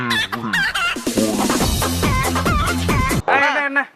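A person imitates a chicken clucking for a chicken dance, loud rapid vocal clucks and squawks in quick bursts, close up, with a brief pause before a final crowing-like cry.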